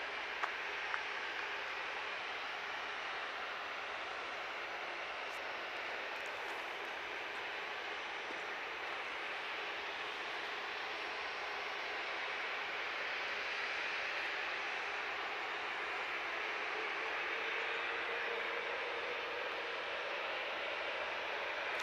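Jet2 jet airliner in white and red livery taxiing at Manchester Airport, a steady broad engine roar heard from a distance, constant and unbroken throughout with no voices.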